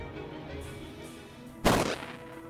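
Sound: explosion in Bastard Bonds video game

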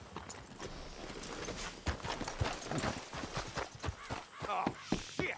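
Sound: horses clip-clopping and whinnying in Red Dead Redemption 2 video game

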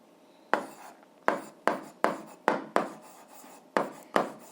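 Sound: writing out the solution

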